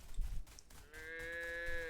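A cow in the video game Everything lets out a long, steady, tonal moo that starts partway through and holds clearly to the end, following a brief stretch of faint background noise.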